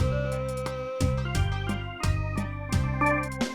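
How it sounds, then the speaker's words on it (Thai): A Pastel Siamkey1 keyboard plays its Thai so fiddle voice in a short sustained melodic phrase of several bowed-like notes, moderately quiet and alone. "นี่เสียงซอครับ"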